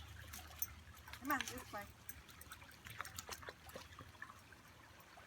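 Spring water trickles and splashes softly outdoors on a walk, with scattered footsteps and a voice speaking briefly over the flow.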